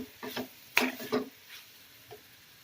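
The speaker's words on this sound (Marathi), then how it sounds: "तर मी याला छान मिक्स करून घेते म्हणजे शेंगदाण्याचा कूट भाजीमध्ये एकजीव होऊन जाईल." Fenugreek leaf bhaji being stirred with crushed peanuts in a pan: a few soft, quiet scraping and clattering strokes in quick succession, then a faint final scrape, with low background hiss.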